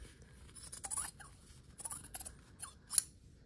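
Scissors snip and trim excess fabric and foundation paper from a paper-pieced quilt block, with several short crisp cuts spaced irregularly and one sharper snip near the end, close and fairly quiet, with no talking.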